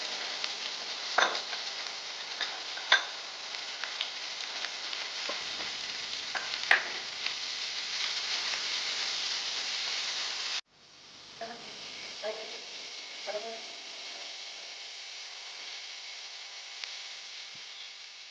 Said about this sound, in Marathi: त्याच्यामुळे कांदा आपल्याला चांगला भाजून घ्यायचा.